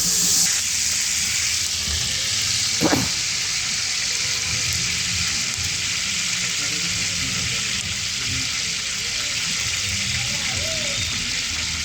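A quarter kilo of Dalda melts and sizzles with a steady hiss as it is stirred in a large pot for a 10 kg batch of Andhra chicken dum biryani, with one brief knock partway through and no talk.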